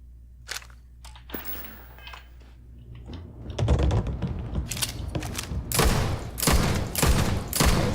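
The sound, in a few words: weapon firing with heavy recoil in video game Starfield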